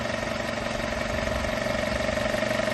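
A Toyota engine running normally gives a steady, unbroken mechanical hum with a constant droning tone and even vibration, close and fairly loud for the whole stretch.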